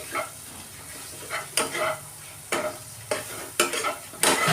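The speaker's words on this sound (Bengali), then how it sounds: "এবার ভালো করে এটাকে নেড়ে নেব।" Fish and pointed gourd frying in a pan with mustard, stirred with a utensil: repeated scraping strokes over a soft continuous sizzle, close and fairly quiet.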